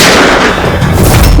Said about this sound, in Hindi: माँ जी, ये क्या गोली चलने की आवाज है?